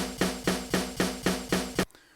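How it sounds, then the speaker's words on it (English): Snare drum hits repeat seven times in a quick, even loop, each a sharp crack with a short tail, then sudden silence. "So let me go find a snare hit."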